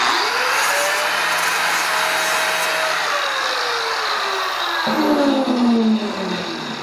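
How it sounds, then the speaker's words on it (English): A grinder cleans the end of a rounding hammer head, making a loud, steady, close motor whine whose pitch slowly sags and then jumps as the tool loads and eases, with no talking. "I want to take my grinder, just clean the end off a little bit"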